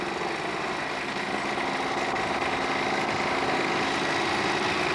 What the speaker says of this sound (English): Next two cars preparing for their quarter-final run.